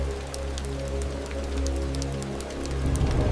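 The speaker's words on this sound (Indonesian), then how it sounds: "hujan tak berhenti mengguyur Cipanyiruan." Steady rain falls continuously with scattered droplet patters on a hard surface, accompanied by a low, droning hum underneath.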